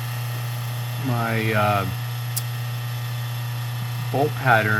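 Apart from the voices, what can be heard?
rotary phase converter humming in workshop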